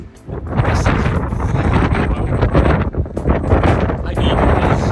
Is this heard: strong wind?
yes